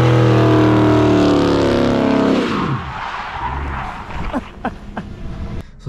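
A 2009 Dodge SRT8 does a burnout: the engine roars loud and close as the rear tires spin and squeal, then the sound drops away into rough tire scrubbing and scattered thumps.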